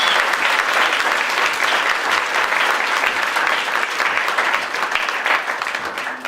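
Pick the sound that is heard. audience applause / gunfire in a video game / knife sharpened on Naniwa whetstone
audience applause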